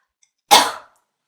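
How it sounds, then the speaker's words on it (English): A single cough into the crook of the arm, one short muffled burst lasting under half a second, close and alone with silence around it. "turn just a little bit and cough or sneeze into your arm, the crook of your arm"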